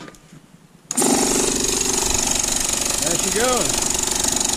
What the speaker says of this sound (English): M8 compressor. Fixed.